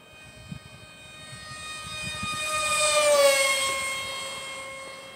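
The engine of an Aeroscout model airplane whines at full throttle during a pass into the wind, its high buzzing tone swelling as it approaches and fading as it moves away, with no voices.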